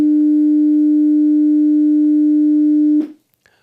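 Steady 300 Hz pure sine tone, loud and unwavering for about three seconds, then cut off abruptly with only faint room noise after.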